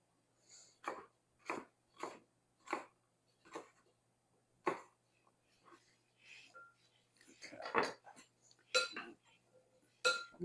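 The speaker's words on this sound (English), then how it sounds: "I'm just going to stir this around." Chicken salad with chopped apple is stirred in a bowl with a utensil, making a run of evenly spaced scraping strokes that gives way to looser, irregular clatter.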